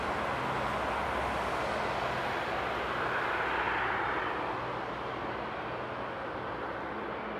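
A large airliner roars at Frankfurt Airport on a frosty night. The broad, steady jet rumble holds for the whole stretch and swells slightly midway, distant but dominant, with no talking.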